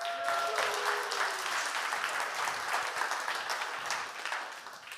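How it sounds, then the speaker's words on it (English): A round of applause for John Stewart at a Kantech innovation showcase: steady, dense audience clapping heard from a distance, tapering slightly toward the end. "Round of applause for John Stewart."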